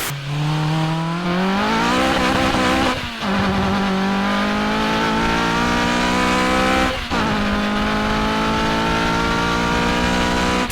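A loud K24-swapped Honda Civic Type R FD2 engine revs hard and climbs through the gears, the exhaust howling with rising pitch and brief drops at each shift.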